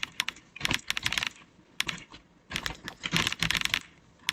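Rapid clicking of keys on a computer keyboard in uneven bursts, close and clear, with short pauses between runs of typing.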